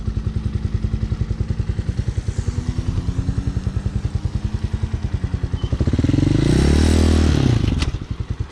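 A Hawk 250cc street-legal dirt bike idles close up with a rapid, even single-cylinder putter, then revs higher around the sixth second before settling back.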